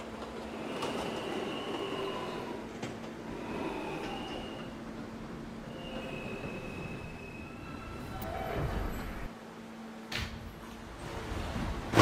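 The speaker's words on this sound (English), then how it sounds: "This is a potato brick bound E-train. The next stop is 67th Street." An R160A subway train running on the E line of a Fifth Avenue route, giving a steady loud rumble with faint wheel squeal tones and a brief quieter dip near the end.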